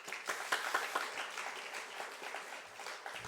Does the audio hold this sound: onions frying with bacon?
no